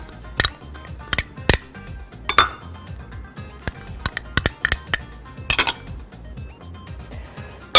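Spoons and utensils clink and clatter sharply against a bowl while kofta meat is mixed with onion and vegetables, in an irregular series of bright, close knocks.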